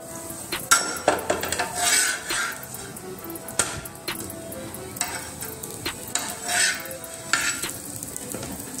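A dosa sizzling and frying on a hot pan after being flipped, with a spatula scraping and stirring and a few metal clinks against the pan, close and steady throughout.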